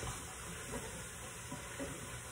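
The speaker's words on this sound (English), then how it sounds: "Let the onion saute a little bit" Chopped onion sautés in a pan over medium heat, a steady soft sizzle with faint stirring scrapes rising now and then, no talking.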